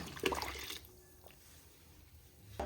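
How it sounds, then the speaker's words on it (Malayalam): A short splash of water pours into a pan of fish curry, lasting under a second, followed by quiet with a faint clink at the end. "ആവശ്യത്തിന് വെള്ളം കൂടെ ചേർത്ത് കൊടുക്കാം"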